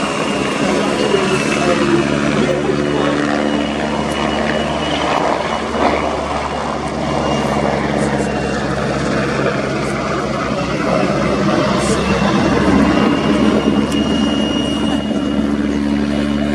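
Two Czech Air Force PZL-Swidnik W3A Sokol helicopters flying a pair display at an air show, a steady loud rotor and turbine roar that holds throughout with faint crowd murmur beneath.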